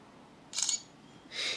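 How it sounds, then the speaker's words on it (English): A soft, quiet T-Mobile myTouch 4G Slide phone camera shutter click, followed by a second brief mechanical snap a moment later, with no voices. "You'll only hear the shutter one time"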